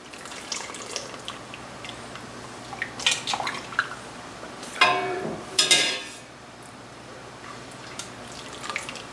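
Blanched bell peppers are dropped from a pot into a bowl of ice water in a home kitchen, with wet splashing and sloshing rising to a couple of louder plunges before settling into quiet trickling.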